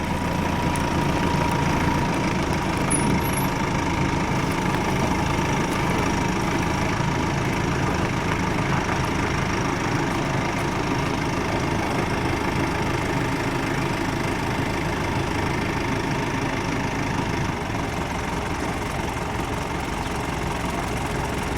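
A 2018 Ford F150 pickup with the 2.7 EcoBoost engine idles steadily, a constant low rumble and hum with a faint ticking texture, continuous and unchanging with no talk.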